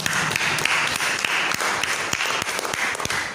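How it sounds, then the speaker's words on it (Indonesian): Moderate applause for Joyce, a student who has just spoken in a school learning session, made of a steady wash of clapping with sharp individual claps standing out throughout. "Oke, tepuk tangan untuk Joyce"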